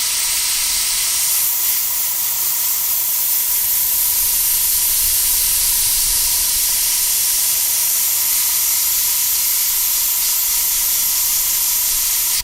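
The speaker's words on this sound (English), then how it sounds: "Now I gotta hold the airbrush still just to do some of these" An airbrush sprays paint in a steady, close hiss that runs the whole time with no clear breaks, alone and without talk.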